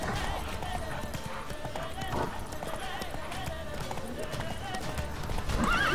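A horse gallops in The Witcher 3 video game, with rapid rhythmic hoofbeats over rough terrain mixed with ambient game sound, while someone talks over it.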